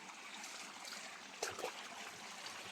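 Stream water flowing down from higher ground over a littered natural spot, a steady soft trickle and rush throughout, with a brief louder splash or gurgle near the middle.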